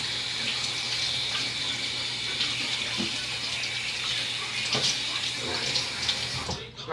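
Water runs steadily from a tap as hands are quickly washed beneath it after packing bubble bath mix into molds, a continuous close hiss with faint splashes and small knocks, no talking.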